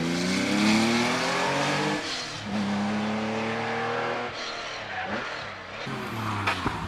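A 3.4-litre Porsche Cayman S races up the Prescott hill climb, its engine loud and close, rising and falling through several gear changes with brief lifts between pulls.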